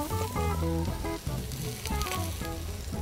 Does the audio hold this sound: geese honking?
no